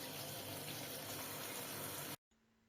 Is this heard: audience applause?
no